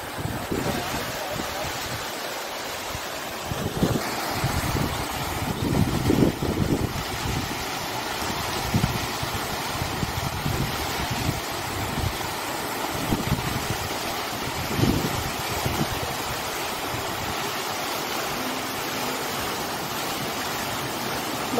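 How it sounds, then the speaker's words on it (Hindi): Water pours steadily through half-opened dam gates in a continuous broadband roar, with low thumps and faint voices nearby. "बहुत अच्छी आवाज लग रही पानी की।"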